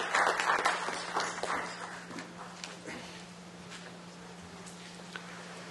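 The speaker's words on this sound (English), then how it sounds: "Please welcome Mr. Lange with a big round of applause." Audience at a Make in India conference applauds to welcome a speaker, a burst of clapping that is loudest at the start and gradually thins and fades over several seconds.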